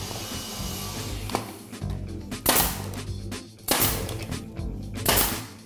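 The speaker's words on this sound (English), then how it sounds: "you don't want to fire a nail into your finished floor." Nail gun driving nails into a barn board door, with several sharp broadband shots and a few quieter taps over steady background noise.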